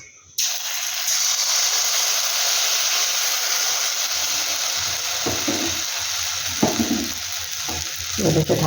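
Rice batter for spicy chitoi pitha poured into a lightly oiled pan, breaking into a loud, steady, close sizzle that holds throughout, with a few faint clinks and scrapes near the end.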